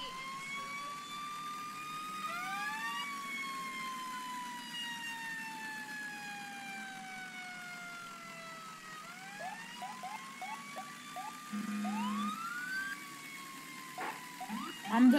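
A fire engine siren in the emergency-responder video game First Responders: Coastal Heat wails in long rising and falling sweeps, moderately loud, with short blips and in-game noises near the end.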